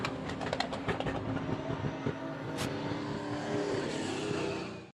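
Amcas solo race cars roll past on a cool-down lap at Hobart Speedway, a continuous loud engine drone with a sharp passing surge midway before the sound cuts off.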